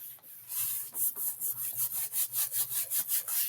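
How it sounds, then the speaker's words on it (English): Paper embellishment rubbed down firmly to flatten it in a craft project: a steady series of about a dozen rhythmic, close, bright scraping strokes with no talking. "I'm just going to flatten it on this side and rub it down."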